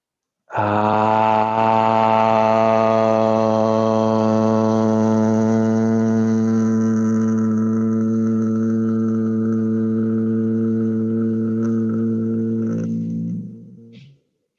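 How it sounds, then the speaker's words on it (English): A long, steady low group chant held on one sustained tone for about thirteen seconds after an inhale, rich in overtones, then trailing off at the end. "at the top of your inhale, you'll begin chanting"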